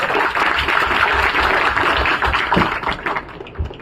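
An indoor audience at a medical exam-prep talk applauds the volunteers, a dense, steady patter of many hands clapping that fades near the end, with no talking over it.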